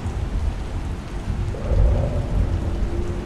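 Rain falling in Honolulu, a steady dense hiss of drops with low rumbling underneath, moderately loud and constant, with no voices.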